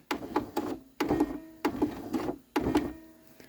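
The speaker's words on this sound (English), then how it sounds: "let me do a couple stitches here" A sewing machine runs short bursts of stitches on quilt fabric, four close mechanical whirring runs separated by brief pauses.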